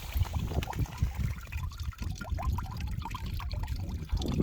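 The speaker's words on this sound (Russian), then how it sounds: "Вода льется постоянно всю зиму и перетекает через такое вот окошечко" Running water pours steadily into a cattle water trough in winter, a close, continuous splashing trickle with small irregular gurgles and drips, moderately quiet and with no talk.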